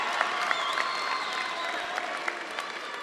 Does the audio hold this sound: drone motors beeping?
no